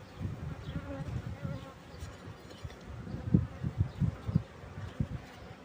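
Honeybees buzzing around a beehive, a close, irregular drone with louder passes of individual bees swelling and fading, fairly quiet overall with no talking.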